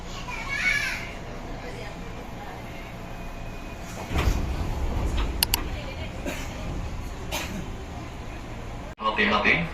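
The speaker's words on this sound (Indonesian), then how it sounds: "attention door will be open." Commuter train doors on the Rangkasbitung–Bogor line slide open with a whoosh and rumble amid a busy carriage, children's voices and background chatter around them.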